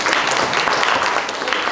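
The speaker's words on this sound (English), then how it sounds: "round of applause for Sarah." Audience applause for a woman at a financial wellness workshop, a steady dense patter of clapping throughout with no talking over it.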